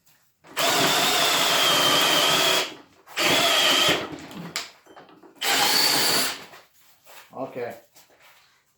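A Milwaukee M18 brushless cordless drill/driver runs in three long, loud bursts separated by short pauses, followed by brief clattering and handling noises.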